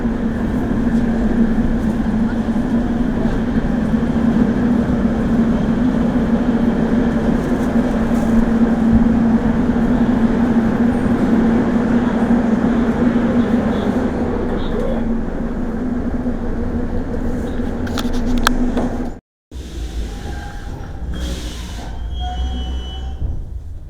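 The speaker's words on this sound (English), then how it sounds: "and here's our train." A St. Petersburg metro train rumbles steadily with a strong low hum and rail noise for about twenty seconds, then a brief drop to silence before the rumble resumes.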